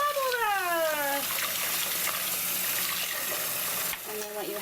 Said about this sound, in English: now we're going to just put in some warm water